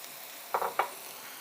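Sweet potato stems are stir-fried in a pan with green onion and onion, giving two brief scraping, sizzling stirs in quick succession against a faint quiet background.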